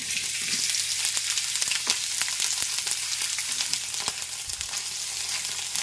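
Ridge gourd pieces fry in hot oil with a steady, close, crackling sizzle and occasional sharp pops, with no voices over it.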